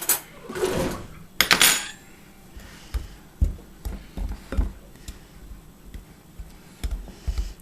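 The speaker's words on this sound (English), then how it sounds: "This is my mixer, so I'm going to mix this up real good in here." A pastry blender mixes shortening, sugar, baking powder and salt in a bowl for baking soda biscuits, making close, irregular clinks and scrapes against the bowl, with a few louder knocks early on.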